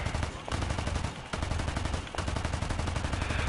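Rapid continuous machine-gun bursts from an aircraft strafing in War Thunder, loud and dense with two brief gaps between long volleys.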